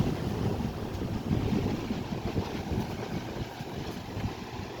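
A 2000 Holmes HABF-27 electric fan running on its low speed setting gives off a steady, close whooshing rush of air with a faint low rumble, continuous and even throughout, with no voices.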